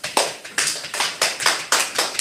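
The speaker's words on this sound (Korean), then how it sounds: "박수 좀 쳐주세요." Audience at a talk applauding in a series of sharp, evenly spaced bursts of claps, fairly close and clear with no talking over it.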